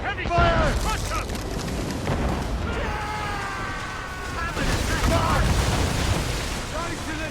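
Heavy cannon booms and rumbling volleys traded between sailing warships in Assassin's Creed Rogue, loud and repeated, with shouting crew voices over the naval battle.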